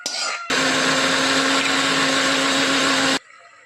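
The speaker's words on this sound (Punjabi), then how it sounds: "ਹੁਣ ਅਸੀਂ ਇਹਨੂੰ ਗ੍ਰੈਂਡ ਕਰ ਲੈਣੇ ਆ" A kitchen blender grinding a cooled tomato soup mixture, switching on abruptly into a loud, steady, high-pitched whirring roar for nearly three seconds, then cutting off, with quieter sounds before and after.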